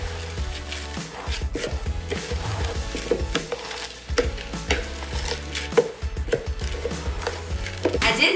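Homemade granola ingredients with a pinch of salt are stirred in a bowl, making continuous close rustling and scraping with irregular clatters of a utensil against the sides, steady and fairly loud throughout.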